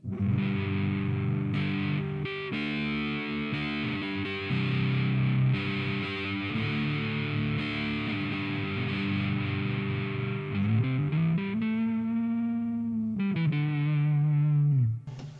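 An Ibanez Artcore AF55 hollowbody electric guitar plays sustained chords and single notes through a drenched, washy reverb styled after the Matchless Nighthawk, with a slow bend near the end as tails ring out.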